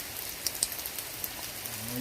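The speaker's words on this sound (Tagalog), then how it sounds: "Binabato kami ng yelo." Hail rains down steadily in a hailstorm as a dense, hissing patter of ice pellets with a few sharper individual impacts, continuous and fairly close, with no talk.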